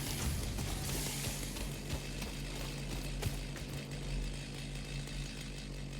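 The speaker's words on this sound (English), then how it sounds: "put the chainsaw in my hands, and I have fuel for the chainsaw." A chainsaw runs in the factory-building video game Satisfactory, giving a steady, buzzing mechanical whine that holds constant with no voices over it.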